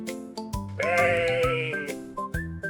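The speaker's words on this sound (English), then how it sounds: "That's right, it's a sheep." Sheep bleating in a farm animal sound game for children, one loud, close, wavering bleat rising out of a short musical jingle, with no talking.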